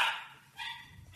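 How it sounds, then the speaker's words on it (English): Dogs bark in a couple of quick bursts inside a home, fairly faint and slightly distant, with brief pauses between. "My dogs are going crazy here."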